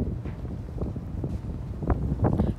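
Wind buffets a microphone on the upper deck of a ferry near Porto Heli, Greece, a steady rough rumble with gusty swells and faint flapping.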